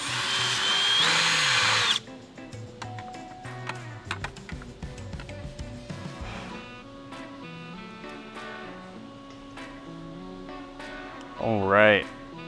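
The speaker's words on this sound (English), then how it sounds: "take your drill with the 5/16" bit, and you're gonna go ahead and of course drill those out." A power drill with a 5/16-inch bit whirs loudly for a couple of seconds while drilling holes, then stops, followed by scattered clicks and handling noises, with a short whine near the end.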